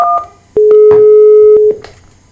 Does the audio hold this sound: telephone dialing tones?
yes